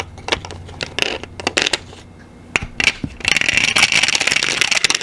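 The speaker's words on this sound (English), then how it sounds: "I got to roll that again because it fell out." Dice clatter and tumble across a table in quick bursts, then a longer rattling roll near the end, close and loud.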